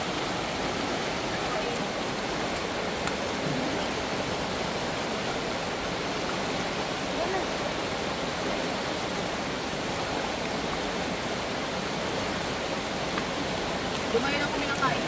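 Broad, steady roar of rushing floodwater rising suddenly around a swimming spot, continuous and loud for the whole stretch with no break.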